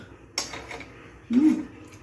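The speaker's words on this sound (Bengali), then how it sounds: "এবার আমি গ্যাসটাকে জ্বালিয়ে নেব, দিয়ে একটা কড়াই বসিয়ে দেবো" A kadai (wok) is set onto a gas stove with two short metallic knocks, the first sharp and light, the second a heavier clunk with a brief low ring, close and otherwise quiet.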